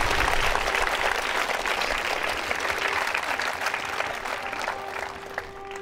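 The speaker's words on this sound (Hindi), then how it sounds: "तालियां बजाइए अपने लिए जोरदार इस संकल्प के लिए" Audience applause at a quiz show held at a government women's engineering college in Ajmer: a dense burst of many hands clapping that starts strong and gradually thins and fades toward the end.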